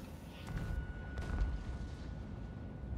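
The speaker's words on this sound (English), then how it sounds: "Oh, they have cannons as well," Cannons firing in the real-time strategy game Total War: Warhammer: low, rumbling artillery booms and bursts, fairly faint, with the heaviest thump about halfway through and a steady battle rumble underneath.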